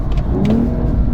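A BMW M240i engine revs hard on kickdown, a loud, steady mid-pitched growl that climbs slightly through the short burst, close up with no talking.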